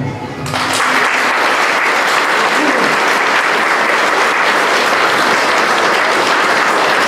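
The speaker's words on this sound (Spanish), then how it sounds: "Yo creo que ustedes se merecen un fuerte aplauso." A church congregation at a festival honoring Nuestro Padre Jesús breaks into loud, sustained applause, a dense roar of clapping from many people that begins abruptly and stays strong and even throughout.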